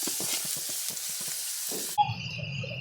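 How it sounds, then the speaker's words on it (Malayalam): Chopped onion and garlic sizzle as they sauté in a pan of hot oil with spluttering mustard seeds, a soft crackling hiss with a few light stirring clicks, then a quieter hum toward the end. "അരിഞ്ഞു വെച്ചിരിക്കുന്ന സവാളയും വെളുത്തുള്ളിയും കൂടി ഇട്ട് വഴറ്റിയെടുക്കാം"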